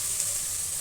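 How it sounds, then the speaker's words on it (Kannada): Onion frying in a pan as boiled drumstick greens go in, a steady close sizzling hiss that holds evenly throughout with no voices. "ಈರುಳ್ಳಿ ಫ್ರೈ ಆಗಿದೆ. ಬೇಯಿಸಿಟ್ಟಿರುವಂಥ ಸೊಪ್ಪು ಹಾಕ್ಕೋತಾ ಇದ್ದೀನಿ."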